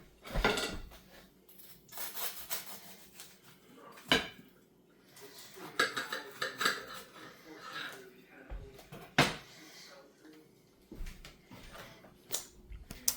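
A knife cutting through an eggplant sandwich on a plate, with scraping and clinking of cutlery against the dish in intermittent bursts, close by, interspersed with sharper taps and a voice talking between cuts.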